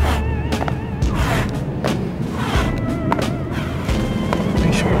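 Repeated landing thuds from bodyweight jump squats during a HIIT workout: dull, steady impacts in an irregular rhythm, close and fairly loud over a busy background.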